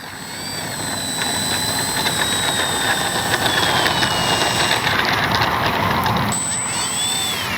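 Electric motor of an FMS Ranger 1220 RC plane whining steadily at close range, with rising and falling high-pitched tones as it runs, no talking over it.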